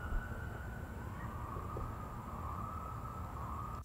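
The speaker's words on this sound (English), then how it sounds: "So that's the sound of a coyote pack, probably hunting, maybe communicating." A coyote pack's chorus of high, wavering howls rises and sustains over a low rumble of background noise, sounding distant and siren-like.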